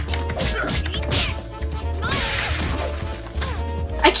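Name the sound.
punches landing in Skullgirls fighting video game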